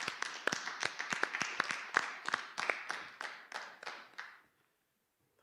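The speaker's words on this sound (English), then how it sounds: "Let's give them again another round of applause." Sparse hand claps from a small audience at a commemoration event form a loose, fairly faint round of applause with individual claps clearly separated, tapering off and stopping before the end.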